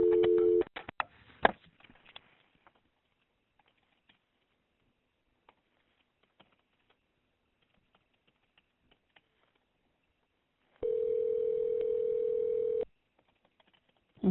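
Telephone line after a police department call disconnects: brief clicks and a short tone, then near silence with faint ticks, followed by a steady two-second dial tone, clear and close, with no voices.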